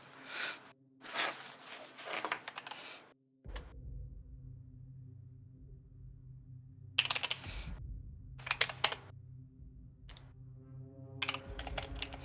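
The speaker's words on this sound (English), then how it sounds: "Keyboard." Clicky computer keyboard typing comes in quick bursts of sharp, close keystrokes, separated by pauses with a low steady hum underneath.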